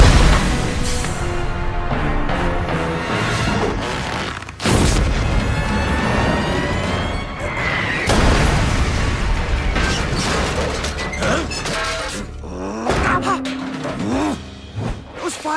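Cartoon fireworks from a ninja animation burst in several loud, booming blasts over busy music and effects, with sharp cracks around the middle of the clip.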